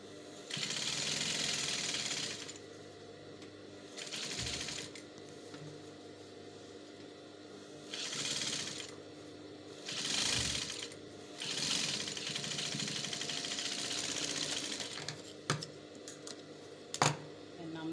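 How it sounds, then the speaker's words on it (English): Sewing machine top stitching a seam on an off-shoulder umbrella dress with puff sleeves: several bursts of steady mechanical whirring, pausing between runs, with a few clicks near the end. "Now I'm going to push my seam allowances to the lining part, then I'm going to top stitch."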